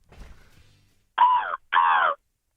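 A voice imitates a seagull with two loud, nasal wailing calls of even length, separated by a short pause, after a quieter low murmur.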